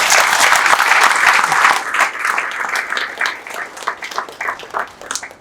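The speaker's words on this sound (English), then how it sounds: "Mr. Allwyn, Michael Allwyn, with your big round of applause, please." Applause from a seminar audience for a guest speaker, a burst of dense clapping that thins into scattered individual claps as it fades out.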